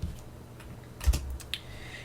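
A short burst of typing on a computer keyboard, a few quick clicks clustered together with one sharper keystroke, close and isolated with no talking.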